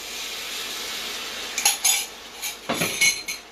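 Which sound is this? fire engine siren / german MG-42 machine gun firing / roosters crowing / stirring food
stirring food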